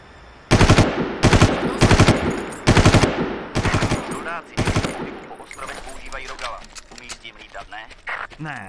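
Bursts of rapid automatic gunfire from the video game Far Cry ring out loud and close, several volleys in a row, then fade into scattered, quieter shots and background noise.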